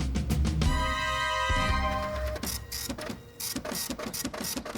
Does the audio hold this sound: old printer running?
yes